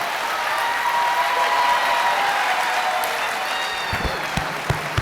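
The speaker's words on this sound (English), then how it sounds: "I want everyone to give a round of applause to Matt's high school head coach who's here tonight, Coach Brian McCluskey." An audience at a live evening event with Matt Ryan gives a sustained round of applause for his high school head coach, a steady wash of clapping that ends with a few louder isolated claps.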